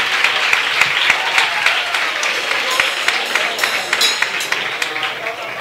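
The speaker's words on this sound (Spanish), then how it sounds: "Un aplauso al Rey de Reyes y Señor de Señores." A church congregation applauds during a sermon, with sustained, lively clapping from many people and sharp individual claps standing out, loud and continuous throughout.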